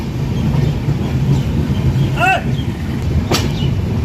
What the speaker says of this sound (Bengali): প্রবেশ করছে ঐতিহ্যবাহী দার্জিলিং মেল হলদিবাড়ি স্টেশনে প্রবেশ করছে